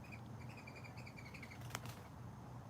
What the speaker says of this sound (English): we got some crazy ass birds up in here